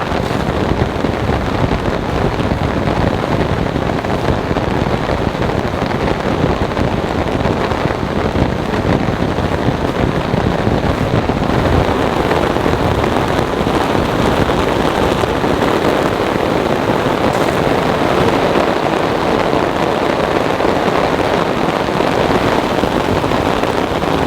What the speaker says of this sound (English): Oh yes, everyone, it is raining.